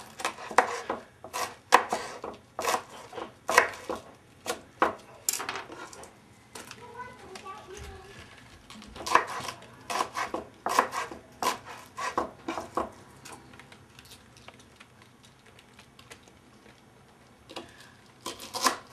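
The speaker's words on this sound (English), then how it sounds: "it's easy to chop them up into smaller pieces" A knife chops lamb on a board in a series of sharp, irregular knocks in bursts, close by, with a pause midway where a person talks quietly.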